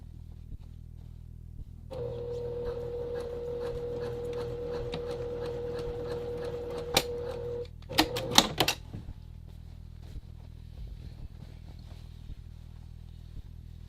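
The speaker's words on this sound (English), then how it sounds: "I'm going to stitch those triangles so that they remain stable at the end" Sewing machine stitches fabric triangles on a men's classic vest, a steady close mechanical whir and rapid needle clatter running for several seconds, then a few sharp clunks and snaps as it stops.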